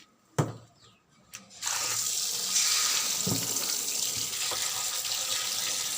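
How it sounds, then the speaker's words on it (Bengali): Tap water runs into a sink as mutton is washed for cooking, starting with a few clunks and then settling into a steady, close rush of flowing water. "মাংসটা ভালো করে একটু ভালো করে ধুয়ে নেব"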